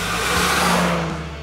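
A classic car engine accelerating hard on a mountain drive, a steady loud mid-pitched roar that swells and then eases slightly, close by with no voices.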